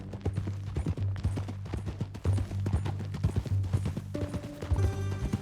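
Horse hooves clip-clopping at a steady walking rhythm in Red Dead Redemption 2, loud and close, with a low musical drone underneath and a brief snort.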